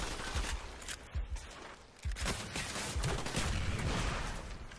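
Dense, rolling gunfire in a Black Ops Gun Game match on the Firing Range map, loud overlapping shots and bursts with a few sharper cracks, continuing throughout.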